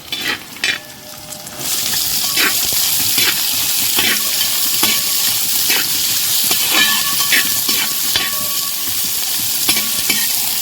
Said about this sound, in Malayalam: നമുക്ക് ഒരു 3 സവോള ചേർത്ത് കൊടുക്കാം.